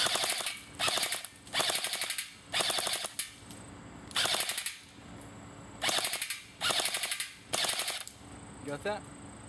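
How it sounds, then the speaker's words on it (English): An A&K M249 SAW PARA airsoft electric gun fires seven rapid full-auto bursts with brief pauses between them, each a fast mechanical rattle, close and loud. "Let's go ahead and take a few shots at it"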